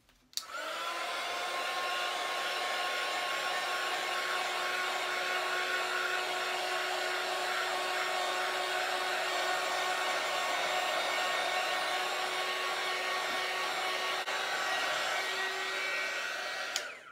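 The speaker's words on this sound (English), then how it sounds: "And then we're gonna hit it with the heat gun." A heat gun blows continuously over a poured paint canvas, a loud, steady whirring rush with a hot-air hiss that clicks on, holds for about sixteen seconds and then clicks off.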